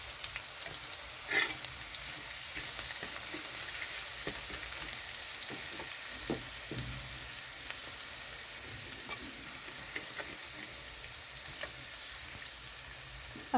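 Potatoes and garlic frying in a pan, a continuous close sizzle with occasional utensil scrapes and stirring clicks, no voices present.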